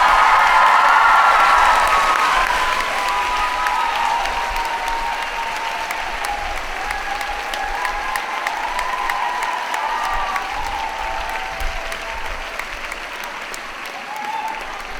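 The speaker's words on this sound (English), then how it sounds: "Please join me in giving Mrs. Adams a round of applause." School audience applauding a faculty member at a recognition ceremony, sustained loud clapping with some cheering and whoops, strongest at the start and gradually easing over fifteen seconds.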